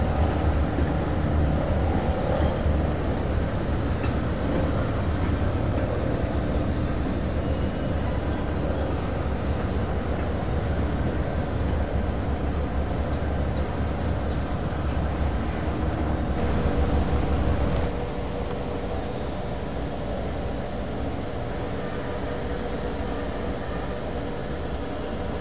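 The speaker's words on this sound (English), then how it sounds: "Here you can see CSX going by" CSX freight train hauling grain loads rolls past on the Gainesville Midland line, a loud continuous broadband roar and rumble of cars that eases slightly toward the end.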